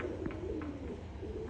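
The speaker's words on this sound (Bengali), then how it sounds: "একদম লাল চোখের কবুতর" A red-eyed Teddy breed pigeon gives soft, low cooing phrases nearby. The calls are repeated and close together over a steady background hum.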